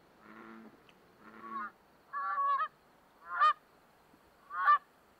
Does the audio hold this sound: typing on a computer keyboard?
no